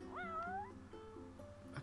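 A cartoonish cat meows in a video game, a single rising, drawn-out mew heard near and clear, followed by softer game tones and faint background sounds.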